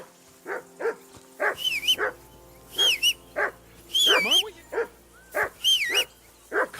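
The dog Mutt in Kingdom Come: Deliverance II, set in medieval Bohemia, gives sharp close barks mixed with high whimpers and yips, in a quick uneven series of separate bursts.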